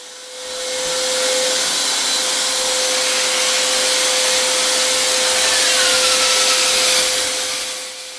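A drywall sander sanding tape joints whirs steadily with a hissing, abrasive rasp, starting up, holding constant for several seconds, then winding down.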